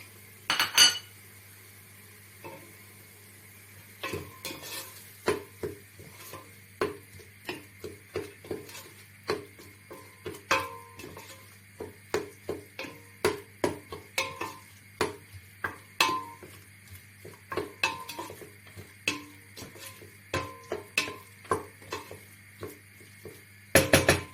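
Peas with tomato paste, salt and spices are stirred and sautéed in a pot; a metal utensil clinks and scrapes against the pot in repeated, rhythmic strokes over a low steady hum.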